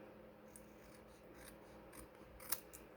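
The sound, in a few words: paper snips trimming cardstock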